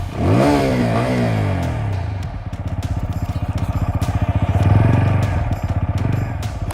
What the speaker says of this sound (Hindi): जो एग्जॉस्ट का नोट है वो उसको कॉम्प्लीमेंट करता है। एक सेकंड आपको फिर से सुनाते हैं।